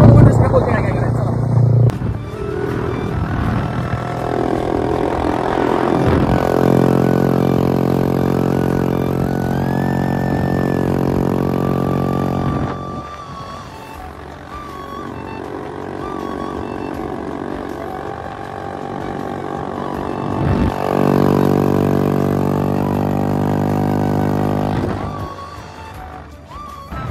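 Yamaha MT-15 motorcycle with an Akrapovic full-system exhaust, a loud, close engine drone with rising and falling revs held over long stretches, with people talking over it.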